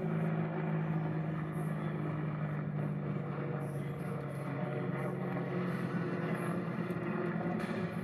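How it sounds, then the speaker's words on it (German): A helicopter flying at a distance, heard as a steady low drone with a faint rotor pulse that holds at an even level throughout, with no talk over it. "Und wir hören einen Helikopter."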